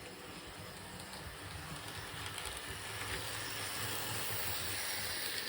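A Dapol Gen II Foxcote Manor class OO-gauge model locomotive runs along track at moderate speed, giving a steady, soft motor whir and rolling rumble that builds slightly, with no voices.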